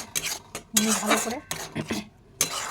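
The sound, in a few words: stirring poppy seed paste with turmeric in a pan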